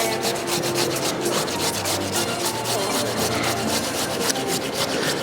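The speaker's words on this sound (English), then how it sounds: "we're going to grate the carrot what I call the big teeth grater" A carrot grated on a coarse, large-toothed grater, giving a steady, close rasping of quick repeated strokes that runs without a break and with no talking.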